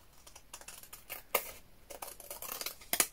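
Scissors cut paper while a folio is being made, giving a quick series of close, crisp snips and rustles with uneven rhythm, fairly quiet and with no talk.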